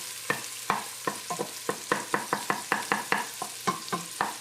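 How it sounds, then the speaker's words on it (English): Butter melting among dry onions in a soup pot for cheddar broccoli soup, stirred and chopped with a utensil: a quick run of sharp knocks and scrapes against the pot over a low sizzle, close and rhythmic. "I am going to move this butter around and chop it up a little bit so that it gets to melting faster"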